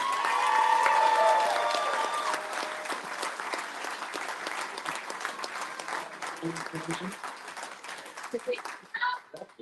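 An audience applauds at an awards night for drag racing champions honoring a Junior Dragster Rookie of the Year, a dense clapping wash that swells early and then thins, with voices and murmurs near the end.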